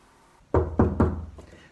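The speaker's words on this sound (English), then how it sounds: "Sophia went up the stairs and knocked." Three firm knocks on a wooden door at a steady, even pace, close and loud against a quiet room, within a dramatized reading of a novel.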